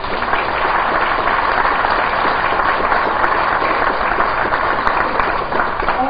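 A lecture audience at the University of Guam claps steadily and loudly, a dense, even wash of hands that holds without a break for several seconds.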